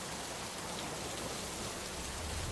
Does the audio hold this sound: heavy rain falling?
yes